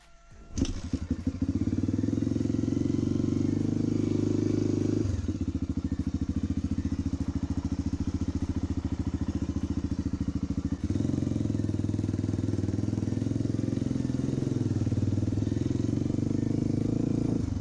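A Suzuki DR350 dirt bike engine runs close by in a steady, loud, thumping single-cylinder idle with slight changes in pace, apparently on choke, while people talk faintly.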